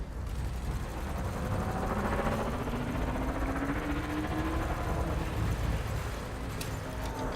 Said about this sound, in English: those multi-cannons sound different